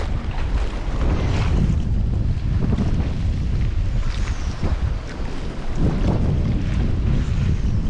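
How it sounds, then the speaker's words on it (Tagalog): Strong wind batters a fishing boat at sea, roaring continuously across the microphone, with waves and hull noise underneath, loud and close, with no voices. "Medyo mahangin lang po ngayon."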